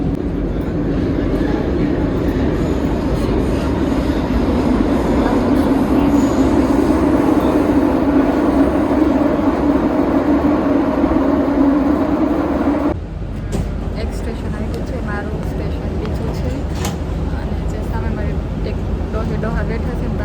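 A metro train carriage rides through Colombo, giving a steady, loud rumbling hum throughout that shifts in tone partway as the ride changes, with voices talking faintly over it.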